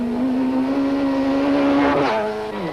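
Rally cars race flat out around the car park stage at Greenpoint Stadium in Cape Town, a loud, close engine note holding a steady pitch then shifting as a car changes gear and sweeps past, with a brief tyre squeal.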